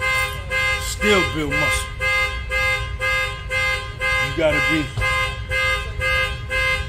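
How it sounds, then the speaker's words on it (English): A car alarm blares outside with a steady, repeating pulsing tone cycling about every second, continuing under someone talking. "Damn alarm going off."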